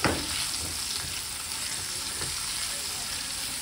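Cauliflower, carrot, capsicum and parboiled potato stir-fry with black pepper and salt in a pan, a continuous close sizzle with soft stirring scrapes and no speech.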